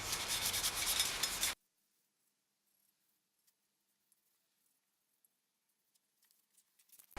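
Sanding on a two-piece wheel, feathering out scratch marks before filler: one loud, steady abrasive rasp for about a second and a half, then near silence with faint scattered ticks.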